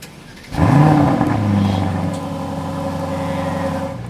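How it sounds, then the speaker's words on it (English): An Aston Martin DBX707 engine revs up sharply from idle, roaring loudly, then settles into a steady, rising drone that holds for several seconds. "let's give this car a rev"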